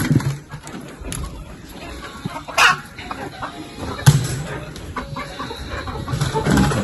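Chickens being let out of their coop cluck in scattered bursts, with a few louder squawks and occasional rustling and knocks close by.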